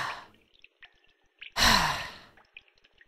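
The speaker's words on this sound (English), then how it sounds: "Heavy breathing could be heard as he clawed the walls of an endless void." Heavy, breathy exhale swells to a loud burst in the middle of Eternal Dreamscape, with faint drips and small sounds scattered around it in the dark, quiet void.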